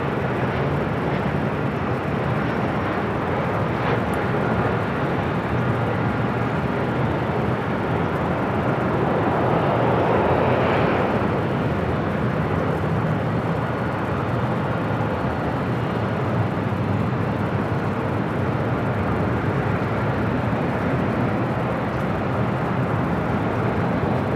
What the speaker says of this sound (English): This flight, Southwest Airlines flight 1039 heading to Albuquerque, New Mexico, 737-700.